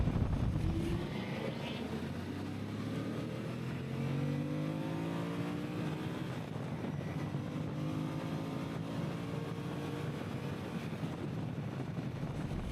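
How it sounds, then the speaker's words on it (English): A 2025 Suzuki V-Strom 1050 DE adventure motorcycle engine hums at moderate volume with a mild rumble, its pitch rising gently as it accelerates, with wind buffeting in the background. "The sound, too, for this motorcycle is kind of timid. It has like a polite little rumble to it."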